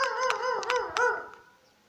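A Dalmatian barks outdoors, several quick yelping barks in a row, close and clear, then fading into quiet.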